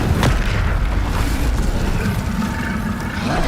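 An Incendio fire spell in a wizarding action game (Hogwarts Legacy) roars as a sustained, loud, booming blast of flame, opening with a sharp hit and rumbling steadily throughout, with no speech over it.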